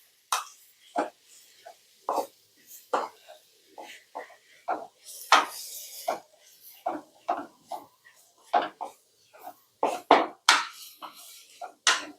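A spatula stirs and sautés chopped onions in a pan, making steady, rhythmic clacks and scrapes about every half second, fairly close and moderately loud against near silence.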